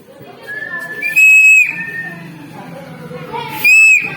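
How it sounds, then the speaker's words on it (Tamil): A shrill referee-style whistle blown twice in short blasts on a school ground, cutting over excited shouting and chatter from a crowd of people. "சார் விசில் அடிங்க சார்"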